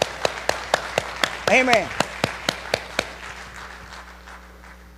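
Church congregation at Sunday morning worship claps hands in praise, a rapid run of crisp, evenly spaced claps that gradually fades, with a voice briefly rising over the claps.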